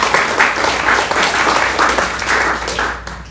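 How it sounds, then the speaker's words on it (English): A lecture audience at a SoCalBio event at Caltech claps loudly and steadily for about three seconds, a dense run of hands that tapers off at the end with no voices over it. "Save the applause until after you've heard me"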